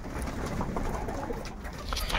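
Ornamental pigeons coo softly nearby as they are fed and watered, with low rounded calls repeating over a light outdoor background.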